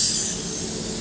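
A steady, loud hiss of a paint spray gun from close by, easing slightly partway through and continuing without pause.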